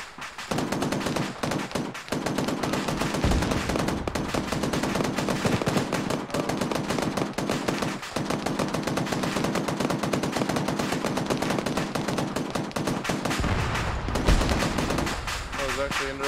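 Sustained machine-gun fire dominates a video-game firefight, dense rapid bursts almost without pause, with heavier indirect-fire explosions and some voices under the shooting.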